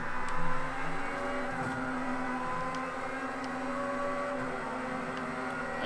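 Car engine in the Forza racing video game drones and revs steadily at high pitch, loud and continuous, with no talking over it.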